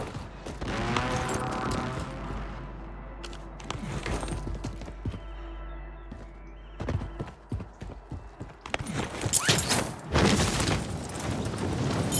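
Gunfire in the video game Warzone: scattered and rapid synthetic shots, booms and mechanical clatter in a busy game mix, with louder bursts toward the end and no speech.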